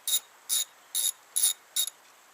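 A hand ratchet clicks in five short, evenly spaced bursts while loosening 10 mm battery nuts on a VW, crisp and close with quiet gaps between strokes.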